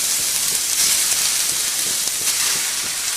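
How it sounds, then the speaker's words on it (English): Sesame oil sizzles in a hot pan with shirataki noodles, producing a loud, steady, bright hiss with no one talking over it. "You see that nice sizzle?"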